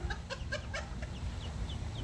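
Ducks and newly hatched ducklings calling at close range, a rapid series of nasal calls and high peeps over steady low background noise.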